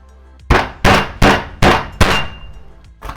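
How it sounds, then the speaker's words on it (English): Garlic cloves smashed for Thai chicken rice: five loud, sharp whacks in steady succession, then a softer sixth knock, with no talking. "I'm just going to prepare the garlic by smashing it up"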